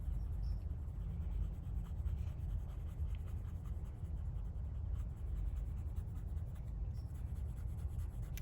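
Colored pencil, a light pass of black, shades across paper in a steady, soft scratching rub that continues evenly throughout, close and quiet with no talking.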